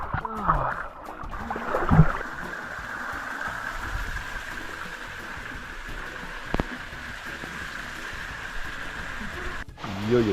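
Small waterfall on the GR20 trail in Corsica, a steady rushing wash of water heard close and continuous, with a few brief knocks and handling sounds.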